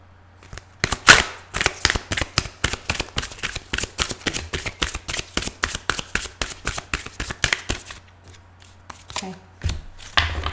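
Tarot cards being shuffled by hand, a long run of quick crisp riffling bursts in a steady rhythm, close and fairly loud, tapering off near the end with a brief faint sound after.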